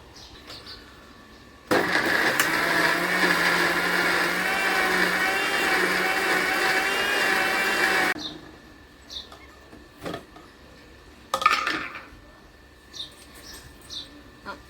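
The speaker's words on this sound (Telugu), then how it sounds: "వీటన్నిటిని ఇప్పుడు నేను పెద్ద మిక్సీ జార్లో తీసుకుంటున్నాను" A mixer grinder whirs loudly for about six seconds, blending ingredients with water into a smooth paste for homemade plant fertilizer in a large jar, then stops, followed by a few short clatters and faint chirpy background noises.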